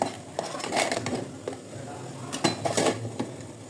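Cooked eggplant is lifted out of a pot, with clattering metal cookware and utensil scrapes, a few sharp clanks and rattles close by, and no talking.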